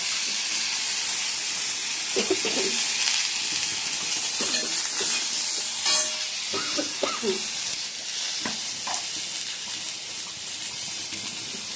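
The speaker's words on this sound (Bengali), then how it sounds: "আর এদিকে সর্ষে আর শুকনো লঙ্কা ফোড়ন দিয়ে দিচ্ছি।" Mustard seeds and dried red chillies crackle in hot oil with a loud, steady, steamy hiss and scattered pops. Faint murmurs of voices come and go beneath it.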